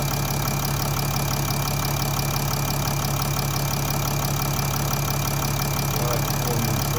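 A Mercedes OM642 diesel engine in an ML350 W166 BlueTec idles while it warms up from cold. The rumble is steady and continuous, with a fast, even diesel clatter that carries close and loud throughout.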